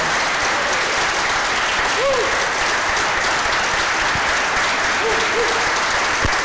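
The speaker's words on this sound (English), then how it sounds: "please join me with thunderous applause for our search" Loud, thunderous applause fills a church installation service for a new minister, honoring the search committee: an even, continuous roar of clapping with faint vocal whoops rising briefly above it.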